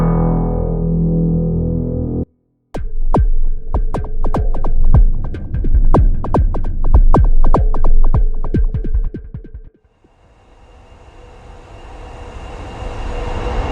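A riser transition made with the dvCompTools Transverse instrument for HALion, starting with a low droning tone, then a rapid rhythmic throbbing pulse, and ending in a rising hiss that swells louder, synthetic and alone without voices.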